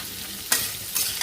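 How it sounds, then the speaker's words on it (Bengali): Drumstick stalks stir-fried in a little oil in a pan, giving a soft steady sizzle broken by two brief scraping stirs. "এবার এই সব শুদ্ধ একটু ভাজা ভাজা করব। একটু দু তিন মিনিট একটু নাড়বো সব শুদ্ধ"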